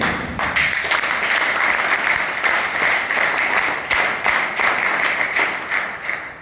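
A crowd applauds with dense, steady clapping for several seconds to honour a qualified candidate at an Indian Army career and Agnipath recruitment event, fairly loud and close, thinning slightly at the end.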